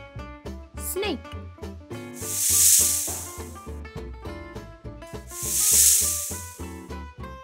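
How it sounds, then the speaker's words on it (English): A snake hisses twice, long breathy bursts that swell and fade, set against steady children's background music. "Snake."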